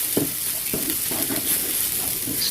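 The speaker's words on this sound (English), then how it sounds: "Add the carrots, that is grated, and stir again." Grated carrots and a mix of cilantro, parsley, corn and green chilies being stirred in a hot pan, with a constant sizzle and several soft scraping strokes of the spoon, close and moderately loud.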